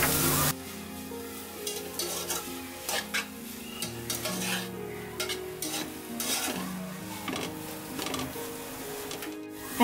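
Mixed vegetables frying in a pan with cumin and coriander powder, a steady sizzle under repeated stirring and scraping, close and moderately loud throughout.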